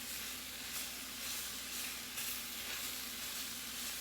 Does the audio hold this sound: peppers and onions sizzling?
yes